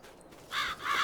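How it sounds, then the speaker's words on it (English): Crows caw twice in Farming Simulator 22, two harsh, fairly loud calls on a farm near canola and soybean fields, heard alone without talk. "Those crows just scared the hell out of me."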